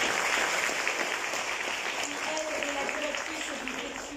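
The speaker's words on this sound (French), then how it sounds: "Également l'extraordinaire Catherine Paya, qu'on applaudit une nouvelle fois." An audience applauds at the closing ceremony of the second AI for Good festival in Mauritius, a dense steady clapping that fades gradually while a voice continues over it.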